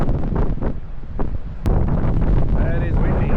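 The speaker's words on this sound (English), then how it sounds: "That is windy." Gusty wind buffets the microphone at a Katoomba clifftop lookout, a loud, steady broadband roar with brief surges, while people talk faintly underneath.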